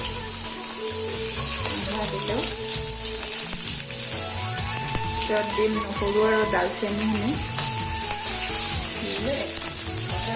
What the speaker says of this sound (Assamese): এতিয়া পিঁয়াজ আৰু বিলাহীখিনি মই ভাজি ল'ম